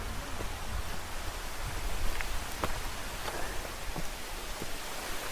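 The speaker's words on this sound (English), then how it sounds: "The rain is really coming down, but it's still sunny." Rain pours steadily onto a steep, muddy forest trail under sunshine, a dense even hiss with scattered sharper drops and a few soft scuffs nearby, no voices.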